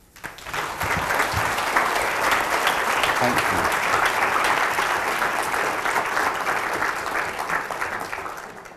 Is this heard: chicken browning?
no